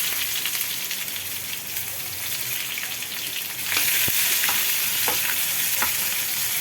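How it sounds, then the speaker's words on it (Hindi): Steady sizzling of onions frying in hot oil, loud and close, growing brighter partway through as more goes into the pan, with a few soft clinks. "तो प्याज डाल देंगे।"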